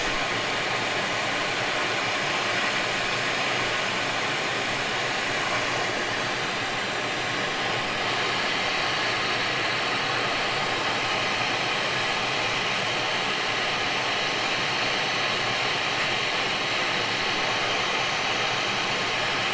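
Hot-air rework station blowing steadily as it gently heats the underside of a PlayStation 5 circuit board to free a damaged USB port, a continuous broadband airflow hiss lasting throughout with no talking.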